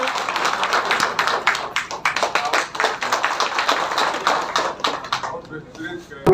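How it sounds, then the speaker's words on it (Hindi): A crowd at an MP's block visit in Kandi claps to welcome him, a dense, sustained patter of many hands that thins near the end, with voices talking underneath. "जोरदार तालियों से स्वागत होना चाहिए।"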